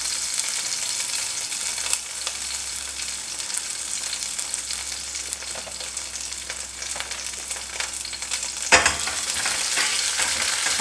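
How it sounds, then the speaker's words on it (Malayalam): Green chilies and ginger frying in a pan of oil for Kerala-style rava upma, a steady close sizzle and crackle with an occasional stir or scrape. "പച്ചമുളകും ഇഞ്ചി ഒന്ന് മൊരിയട്ടെ"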